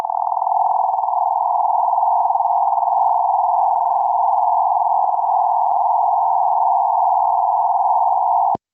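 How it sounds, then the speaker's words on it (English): A sped-up sonification of a sun-like star's oscillations plays as a pure, unwavering electronic tone. It hums alone and steady for about eight seconds before cutting off abruptly. "So this is what a star like the sun would sound like."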